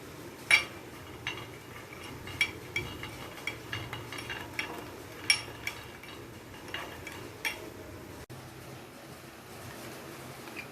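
A spoon stirs kokum paste marinade for surmai fish fry in a bowl, giving irregular clinks and scrapes against the dish, some sharp and close, with quiet pauses between.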